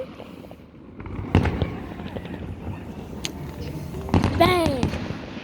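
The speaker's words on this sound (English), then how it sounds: "Fireworks are not illegal on Independence Day." Independence Day fireworks pop and crackle in a few sharp bursts, including a whistling rocket near the end, against an outdoor background with a voice talking.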